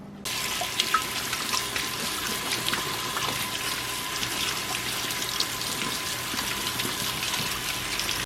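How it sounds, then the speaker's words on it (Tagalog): Sliced onions rinsed under running tap water for a Russian tomato salad, a steady close gush and splash continuing from start to end with no talking. "I'm just gonna wash it in water"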